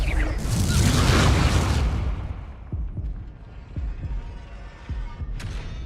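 A Confringo spell blast in Hogwarts Legacy, a broad booming explosion that swells and rumbles for about two seconds, then fades into a string of soft thuds and small impacts during spellcasting combat.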